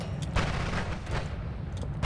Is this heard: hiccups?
no